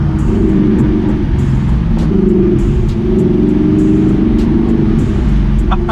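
An Audi R8 V8 with a Milltek exhaust rumbles through a U-turn, a loud, close, deep engine note that stays steady and throaty throughout with faint ticking above.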